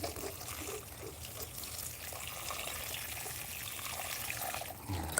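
Liquid plant food is poured or sprayed onto plants in a suburban homestead garden, giving a steady soft rush and trickle of water throughout with no talking.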